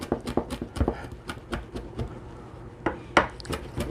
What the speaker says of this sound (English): And then I'm just going to start chopping.